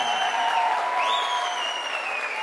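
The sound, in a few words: applause at wedding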